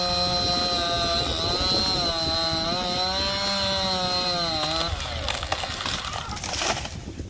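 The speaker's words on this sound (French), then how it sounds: "Il y en avait 2 avec les tronçonneuses qui enlevaient les branches" Chainsaws cut branches off felled trees, one engine droning steadily and shifting pitch before it cuts out into rustling and clatter.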